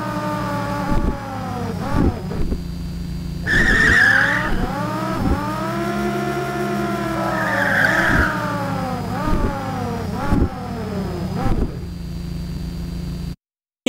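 Designed car-driving sound effect: an engine tone sweeps up and down in repeated arcs, with bursts of tyre squeal and braking at the high points, loud and continuous, then stops abruptly.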